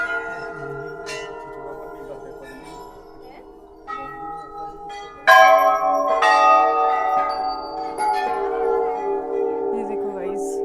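Many bells hung at a Hindu temple in Uttarakhand ring together in a dense, overlapping metallic clang that swells louder midway, with a faint voice briefly under the ringing.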